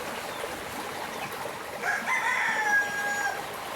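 Hubbard chickens at their coop, with a rooster's crow rising clearly over steady background noise in the second half, close by and fairly loud.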